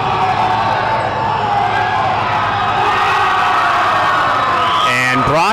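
Crowd erupts in cheering inside a high school gymnasium during a girls basketball game, Brockton versus Sandwich, a loud sustained roar with whoops and shouts throughout.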